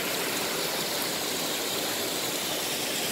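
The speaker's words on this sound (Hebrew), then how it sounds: "המים נותחים מלמעלה." Waterfall at Dodim Cave in Nahal David, a loud, continuous hissing rush of falling water that stays steady and close throughout, with no talk.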